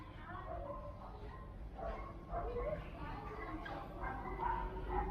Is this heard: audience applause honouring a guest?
no